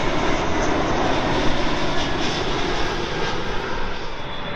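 A Boeing 777-300 from Kuwait City comes in to land at London Heathrow, its jet engines roaring loud and close in a dense, unbroken rumble throughout.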